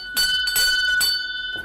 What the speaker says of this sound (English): I'll ring a bell